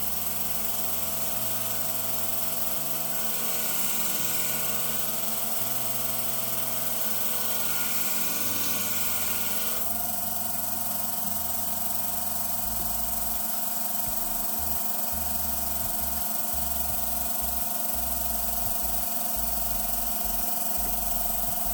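Worn curved grooming shears grind against a well-used 240-grit stone held in a Katoku guide, a steady droning buzz with a continuous scraping hum, close and unbroken.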